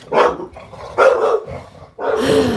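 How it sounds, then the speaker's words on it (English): A dog barks three times, close and loud, with short pauses between the gruff barks. "There goes the freaking dog."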